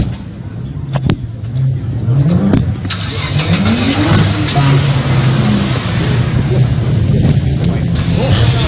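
Several cars pull away from a motoring show set, engines revving with rising pitch sweeps over a steady loud low rumble, close by, with a presenter talking faintly underneath.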